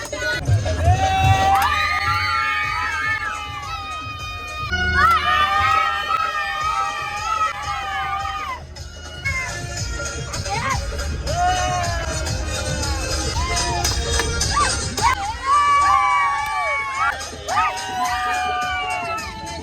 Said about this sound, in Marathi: भरपूर गर्दी आहे. बापरे.